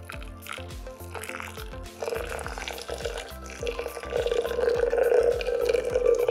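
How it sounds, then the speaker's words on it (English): Water is poured over ground coffee in a French press, a gurgling, bubbling stream close by that grows louder and fuller as the pour continues over several seconds. "We'll then add the 500 grams of water."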